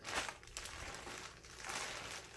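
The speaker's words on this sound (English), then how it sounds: "and the hair comes in this plastic bag right here." A plastic bag holding a Yaki straight lace wig crinkles and rustles faintly as it is handled, soft bursts of crackling close by with no talking.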